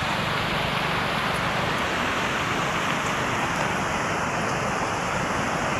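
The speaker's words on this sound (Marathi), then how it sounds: "हे बघा पाणी किती वाहत आहे" Steady broadband rush of river water flowing along a channel in the hills, constant and fairly loud throughout with no talking, filling the whole stretch evenly.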